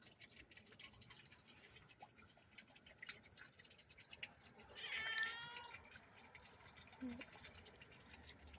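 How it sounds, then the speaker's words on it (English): Cats meow for food close by, a few brief meows amid faint household background noise, with a louder cry in the middle. "Cats are telling me they want to eat."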